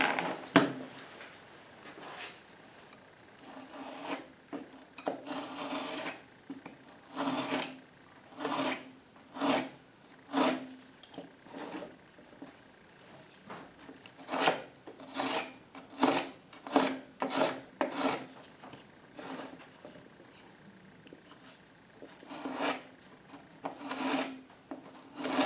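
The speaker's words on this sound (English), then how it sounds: "we're going to take our utility knife and we're going to come along here" A utility knife scoring the back of a drywall sheetrock sheet: repeated short, scraping rasp strokes in an uneven rhythm, close and fairly crisp, with quiet pauses between cuts.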